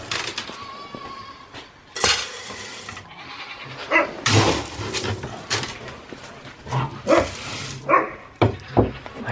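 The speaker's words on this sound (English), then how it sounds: "I hear the puppy dogs." Dogs bark in short loud bursts on a homestead, with sharp irregular barks scattered throughout alongside other animal noises.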